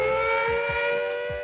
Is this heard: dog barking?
no